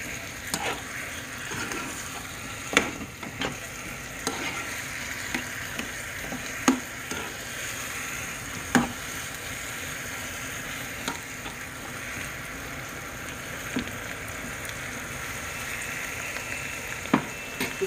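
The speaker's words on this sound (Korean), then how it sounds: "어묵볶음을 한번 볶아보겠습니다" Korean fish cakes (eomuk) being stir-fried in a pan for a home breakfast, giving a steady sizzle with scraping spatula stirs and occasional sharp ticks of utensils on the pan, heard close and without talk.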